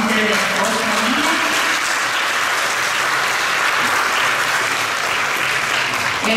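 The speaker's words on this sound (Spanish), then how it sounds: "Aplausos para el continente de Oceanía" Loud, sustained applause from a large crowd at a Catholic parish celebration in El Salvador, with a few voices faintly audible underneath at the start.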